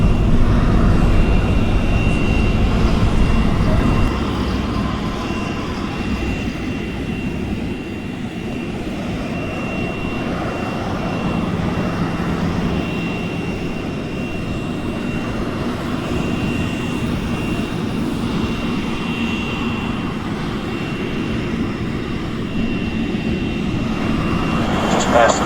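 Airplane engines during takeoff, heard from inside the cabin as a loud, steady broadband roar and drone that holds almost unchanged throughout, easing slightly after the first few seconds.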